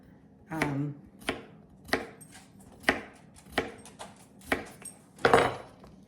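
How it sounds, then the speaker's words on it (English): A kitchen knife chops cucumbers on a board for a quick cucumber salad, giving about eight distinct, evenly spaced thuds with a slight ring, close and clear with no talking. "And then I'm just gonna chop these"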